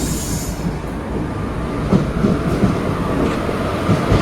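A passenger train pulls into a railway station in Kerala with a loud, close rumble, low clanking of wagons and faint rhythmic wheel clacks that build steadily.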